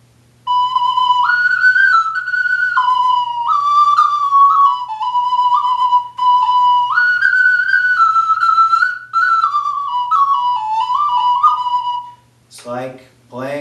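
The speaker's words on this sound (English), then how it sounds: "like playing the ocarina." An ocarina played through a taped-on McDonald's straw gives a clear, breathy, pure-toned melody of held and stepping notes, followed by a brief burst of speech at the end.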